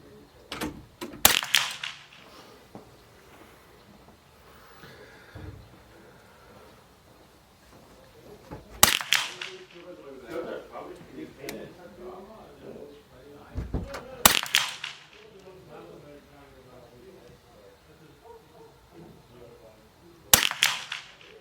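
Shots from a Jaeger AP74 .22 LR rifle styled like an AR-15, five sharp cracks spaced several seconds apart, with quiet talk and handling noise in between.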